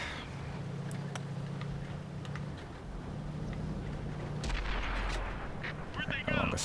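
Heavy tank cannon fire in World of Tanks (console), an M51 Super Sherman firing shells that hit the ground, rumbling with a low engine drone and a couple of booming impacts beneath the mix.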